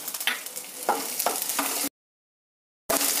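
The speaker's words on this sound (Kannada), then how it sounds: "ಬೇಳೆಗಳೆಲ್ಲ ರೋಸ್ಟ್ ಆಗಿದೆ" Urad dal, green chilli, ginger and curry leaves sizzling and being stirred in a hot pan, a steady crackle with scraping strokes, then a second of silence before the sizzle resumes.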